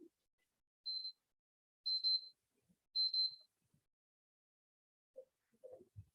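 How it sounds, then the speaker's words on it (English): Three short, thin electronic reminder beeps marking the end of a 10-minute time limit at a conference, at an even pace, roughly a second apart, in a quiet room, followed by faint soft noises. "You will hear a beeping sound as a reminder at the end of 10 minutes, just like this one."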